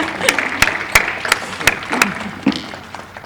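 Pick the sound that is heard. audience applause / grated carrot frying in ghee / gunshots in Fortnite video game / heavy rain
audience applause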